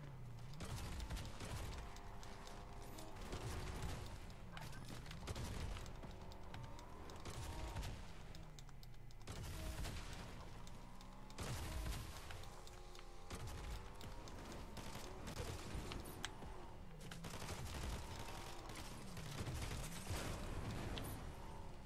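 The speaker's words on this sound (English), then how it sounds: "I'm shooting because I think the other person is driving." Rapid gunfire from a video game rattles on throughout in a steady stream of bursts and shots, with faint mechanical sounds and occasional booms mixed into the dense, continuous barrage.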